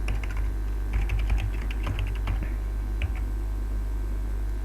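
Rapid keystrokes on a computer keyboard as a password is typed into a NetScaler login, a steady run of close, crisp clicks over a low hum with no talking.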